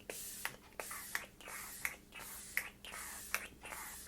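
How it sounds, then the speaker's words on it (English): Several short, soft hissing sprays of a fine facial mist bottle, spaced about every three-quarters of a second, close and quiet. "It has a nice fine mist."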